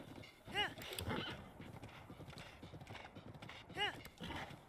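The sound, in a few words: horse hooves and whinny in Zelda Breath of the Wild video game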